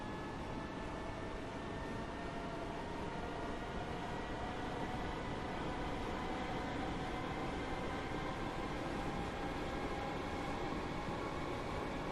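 A Class 313 electric train accelerating at full throttle. The cab is filled with a steady, dense rumble and rail roar and a faint rising whine, constant for the whole span, with no voices.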